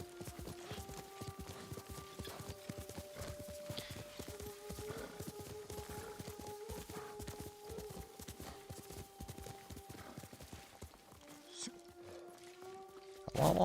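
Horse hooves clop in a steady walking rhythm in a video game, quiet and continuous, with tonal music-like hums in the background.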